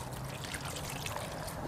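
Wine poured from a cup into the water basin of a water smoker before a turkey is cooked, a steady close splashing trickle lasting under two seconds with no talk over it.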